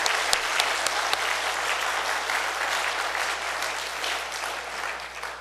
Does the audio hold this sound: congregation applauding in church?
yes